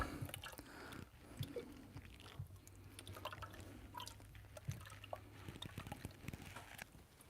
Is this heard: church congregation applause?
no